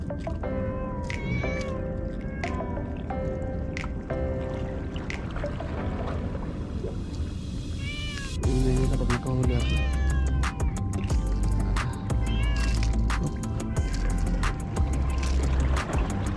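A cat meows repeatedly and insistently, with loud close cries in a quick irregular series, over a steady background of water and outdoor noise during fishing.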